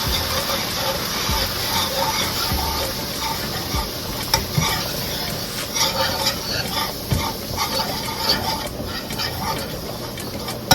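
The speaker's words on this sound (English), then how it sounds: "Okay, I'm going to sprinkle some flour in there. We're going to cook the flour." Flour cooking in a hot pan while being stirred: a steady, close sizzle with scraping stir strokes running through nearly eleven seconds, with a few louder knocks toward the end.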